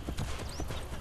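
Horse hooves clip-clop steadily in Assassin's Creed Brotherhood, a quick regular rhythm of hoofbeats over a dense bed of game ambience, fairly prominent and close.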